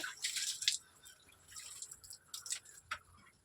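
Water drips and splashes softly onto potted tulsi, chilli and mint plants during morning watering, a quiet patter of irregular drops close by.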